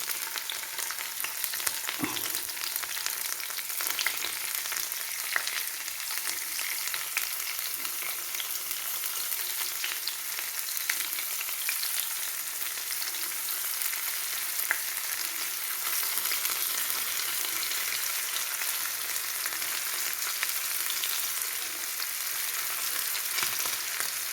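Ozhuka, a small fish, rubbed with masala and frying in a pan of hot oil, a steady dense sizzle lasting throughout with faint scattered pops and no talking.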